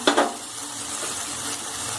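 Radish pods (dingri) sautéing in a pan hiss softly and continuously after a couple of quick utensil clatters at the start, with no one speaking.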